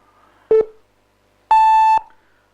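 Two electronic quiz timer beeps during a medical quiz contest, a short lower tone followed a second later by a longer, higher, steady tone, both clean and loud in otherwise quiet surroundings.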